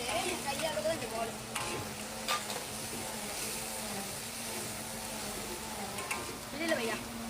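Steady sizzling and frying from a hot pan, with occasional stirring scrapes and clinks, fairly close and continuous throughout.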